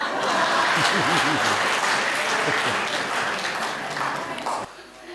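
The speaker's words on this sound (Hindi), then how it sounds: "आप लोगों को तालियां बजानी ही होगी" Audience applause at a comedic poetry performance, a loud sustained burst of clapping that tapers off near the end, with voices underneath.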